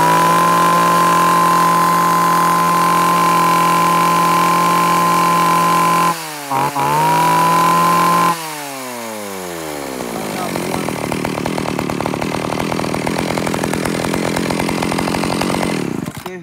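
A Japanese two-stroke Makita E3640 chainsaw engine starts out idling steadily, cuts briefly, then revs up into a loud, buzzing high-speed roar that holds close and continuous.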